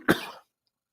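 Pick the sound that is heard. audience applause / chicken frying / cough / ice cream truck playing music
cough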